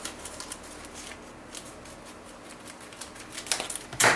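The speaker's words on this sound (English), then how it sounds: "I can find my scissors here, bear with me here. Instead of using a whole bag, what I will do is go in," Scissors cut a plastic bag of buttermilk powder in half, giving a dense crinkly rustle with quick snips that grows louder and sharper toward the end, with no talking.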